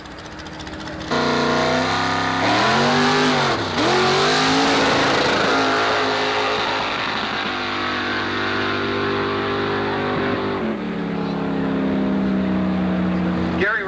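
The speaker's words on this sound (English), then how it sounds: "On the spectator side is Judy Scotty with her 57 Chevy." A 1957 Chevy launches at an antique-car drag race at Carlsbad Raceway in San Diego. The engine roars loudly with rising revs and shifts, then tapers off into a steadier drone as the car pulls away.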